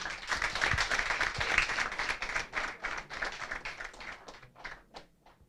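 Applause from an audience at a national exam results announcement ceremony in Rwanda, a fairly faint sustained patter of clapping that thins and fades out toward the end.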